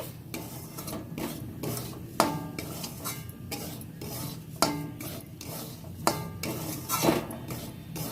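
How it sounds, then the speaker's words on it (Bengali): Semolina is stirred and roasted with fried onions in a pan, with a spoon scraping and knocking against the metal in irregular strokes, some louder clanks standing out over a soft, dry sizzle close by. "সুন্দর করে নেড়ে চেড়ে ভেজে নিতে হবে"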